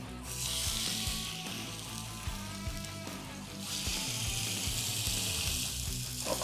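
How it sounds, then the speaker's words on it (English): A skin-on John Dory fillet laid in a hot pan sizzles with bright hissing bursts over a low kitchen hum and some clatter, the sizzle swelling again near the end; no one speaks. "we're just going to go ahead and put the John Dory in the pan"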